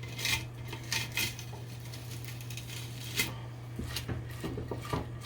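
A spatula scrapes sticky cereal treat mixture out of a pan, with repeated scrapes and light metallic clinks over a steady low hum.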